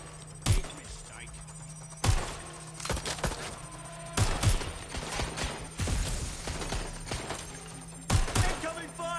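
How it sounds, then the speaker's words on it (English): Sharp gunshots in Watch Dogs Legion, several separate loud cracks a couple of seconds apart, with voices speaking between them. "Incoming fire!"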